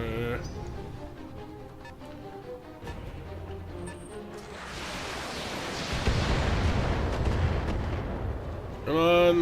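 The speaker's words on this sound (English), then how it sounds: "Some of the cannons these turrets have scare the bejeebus out of me." Heavy turret cannon fire in the mech combat video game Battletech, booming blasts and rumbling impacts swelling louder toward the end over game sound effects, with a voice talking at times.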